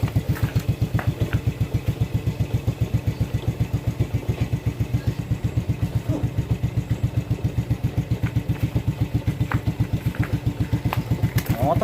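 A motorcycle engine idles close by in a steady, fast, even putter for the whole stretch, with faint voices in the background.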